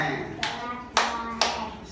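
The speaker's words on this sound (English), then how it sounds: "Clap your hands." Children clapping their hands in a classroom: three distinct, crisp claps spaced about half a second apart, with faint voices in between.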